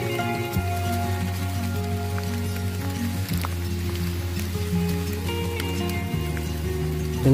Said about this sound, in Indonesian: hujan kembali datang